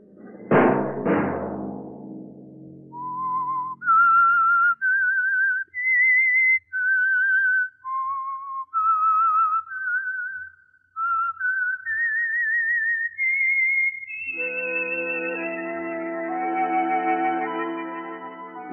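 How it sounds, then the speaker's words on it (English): A lone whistled melody serves as the signal for The Whistler radio mystery program. Sustained reverberant notes rise and fall after two sharp opening accents, and the tune swells into a fuller echoing chord at the end. "Let that whistle be your signal for the Signal Oil program"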